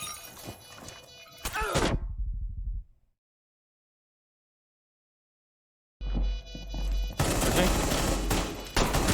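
Loud bursts of gunfire and impacts from a pistol firefight in Rainbow Six Siege, cutting to total silence for about three seconds before dense, loud shots and clatter resume to the end.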